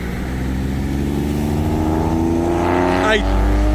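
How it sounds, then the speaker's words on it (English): A Porsche car driving past on the road nearby, its engine hum rising then sweeping in pitch as it passes close by, with a steady rumble of background noise. "Oh look, there's a Porsche"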